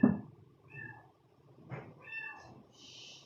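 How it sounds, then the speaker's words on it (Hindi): A small cat meows indoors, several faint high drawn-out mews spread across a quiet room after a brief low bump at the start. "पता नहीं छोटी सी बिल्ली कहाँ आ गई है,"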